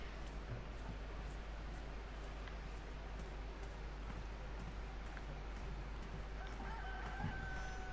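Rooster crowing inside the survival game DayZ, a faint, thin call rising late in the clip over a steady wash of ambient noise, with no one talking.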